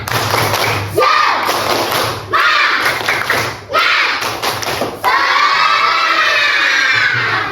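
A crowd of children shout in unison with rhythmic claps, chanting in Indonesian, loud and close, bursts separated by brief pauses, ending in a sustained cheer.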